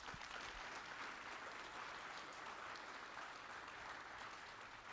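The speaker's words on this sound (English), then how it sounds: "Big round of applause for all these amazing speakers." A conference hall audience at CascadiaJS 2022 applauds the speakers at the close of the first day of talks, a steady wash of clapping heard at a distance and fairly faint, with no speech over it.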